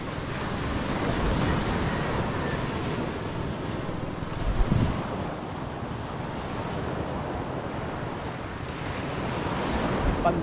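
Ocean waves wash steadily onto a beach at low tide, a continuous rushing surf with wind noise on the microphone and no voices.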